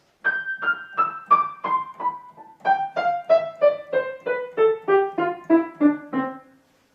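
A steady run of short, detached piano notes stepping gradually downward in pitch, each cut off cleanly before the next, played alone.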